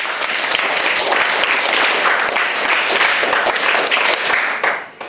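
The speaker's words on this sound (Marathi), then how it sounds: "सगळ्यांनी टाळ्या वाजवायच्या" Schoolchildren at a primary school quiz programme applaud a contestant, a loud, dense burst of many small hands clapping together that carries on steadily and then tapers off at the end.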